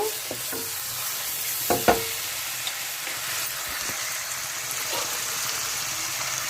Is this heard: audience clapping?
no